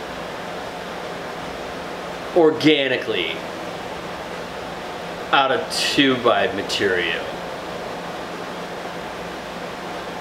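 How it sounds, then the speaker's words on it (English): Water rushing from a fire hydrant being drained just outside a garage makes a steady, broadband hiss that runs through the whole stretch, with someone talking over it in two bursts. "drain the fire hydrant right outside my garage right now"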